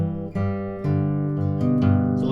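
A single guitar plays the next measure, a short run of plucked notes and alternating bass that ring clearly and close up with steady sustain and no voice.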